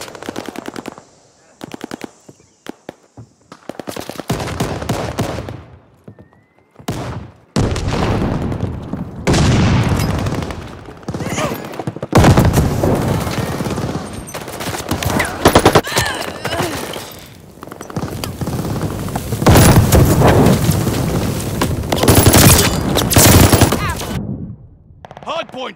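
Sustained automatic gunfire rattles through a Call of Duty: Vanguard Hardpoint multiplayer match, loud bursts of machine-gun fire repeating in clusters with brief pauses, mixed with booms and game effects.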